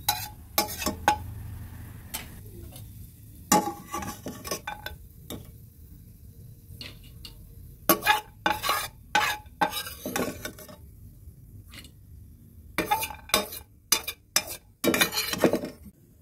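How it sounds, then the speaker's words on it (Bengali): Cashews being lightly fried and stirred in a kadai while making sabudana payesh, heard as bursts of spoon scraping and clinking against the metal pan, separated by quiet gaps, with no talking. "কাজুগুলো হালকা আছে ভেজে নেব।"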